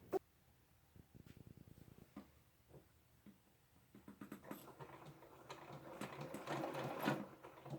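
Janome embroidery machine stitching a quilt-in-the-hoop block with appliqué, starting with quiet rapid needle taps that build into louder, busier whirring and clicking, close up with no speech.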